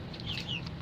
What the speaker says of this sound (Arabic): وهسه دخلنا الى قفص طيور السمان، فراخ طيور السمان